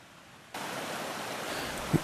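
Running water of a mountain stream on BLM land among pine and aspen in Colorado, a steady soft rushing wash that swells in suddenly and holds evenly, heard alone.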